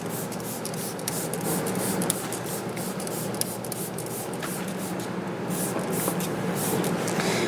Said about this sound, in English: So I'll just spray the whole motor down.